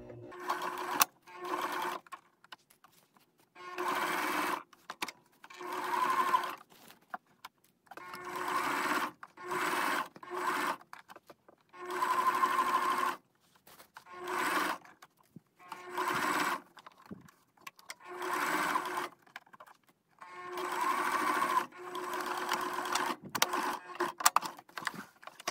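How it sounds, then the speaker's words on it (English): A sewing machine runs in repeated short bursts while backstitching a dress shirt sleeve, its steady mechanical whir starting and stopping with brief pauses between runs, close and clear. "Don't forget to backstitch."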